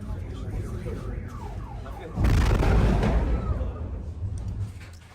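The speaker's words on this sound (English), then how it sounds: "explosions and the sound of drones echoed through the city during the attack" A loud, broad roaring burst hits partway through, a blast during a Russian drone and missile attack on a Ukrainian city, after a wailing siren that rises and falls; the roar echoes and slowly fades.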